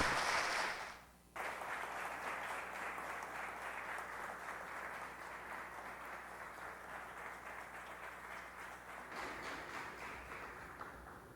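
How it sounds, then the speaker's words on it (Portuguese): An audience at a Clube Naval lecture gives a sustained round of applause for two people. A brief dip near the start gives way to a continuous, even patter of clapping heard from a distance. "E uma salva de palmas para os dois."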